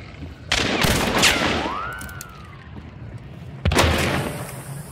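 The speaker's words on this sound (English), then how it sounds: "he's all about some shooting through walls" Bursts of video game gunfire shooting through walls, two loud clusters of shots a few seconds apart with a whistling, bending tone in between, heard without speech.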